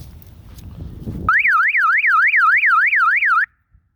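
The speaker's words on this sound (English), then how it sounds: "Siren is really loud." A loud, close electronic police motorbike siren wails up and down rapidly for about two seconds after a short rustle, then cuts off abruptly.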